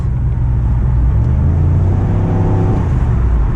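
Inside a 2007 Chevy Impala SS, the engine gives a short, steady low rumble as it accelerates, close and fairly loud, with no one talking.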